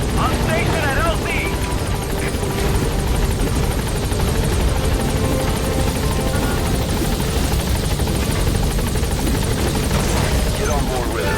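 Helicopter in Metal Gear Solid 5 approaching a landing zone, its loud continuous rotor thump and turbine whine filling the scene from start to finish, with radio voices speaking over it.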